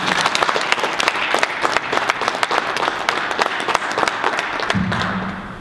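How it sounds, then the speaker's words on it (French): Enthusiastic audience applause, a dense burst of many hands clapping loudly and continuously, fading slightly toward the end. "On peut l'applaudir s'il vous plaît."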